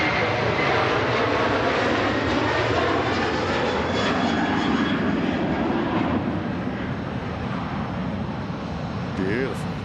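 An Aer Lingus Airbus A330 jet takes off at Manchester Airport, its engines a loud, continuous roaring rumble heard from the airfield, with a voice talking briefly over it.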